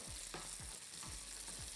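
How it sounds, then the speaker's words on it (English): A steady, close sizzle of almonds frying in a pan, with a few soft scraping stirs at regular intervals. "Now back to our almonds, sizzling away"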